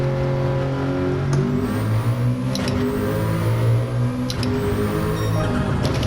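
A Nissan Skyline GT-R R34 drives on a race track, its engine droning steadily with rising and falling tones as it accelerates and shifts, loud and close throughout.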